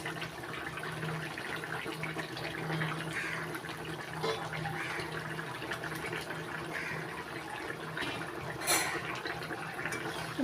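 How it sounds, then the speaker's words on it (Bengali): Fried katla fish goes into a simmering winter vegetable curry with radish, beans and potato, a steady close bubbling hiss of liquid running throughout with one brief louder splash near the end. "এখন দিয়ে দিচ্ছি ভেজে রাখা কাতলা মাছ"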